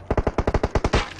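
Automatic weapon fire in PUBG Mobile, a rapid burst of about ten sharp, loud shots in a steady rhythm, ending in a smeared final report.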